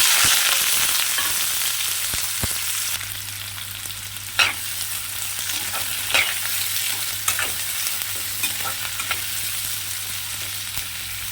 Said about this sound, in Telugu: ఉల్లిపాయలు వేసేసుకుంటాను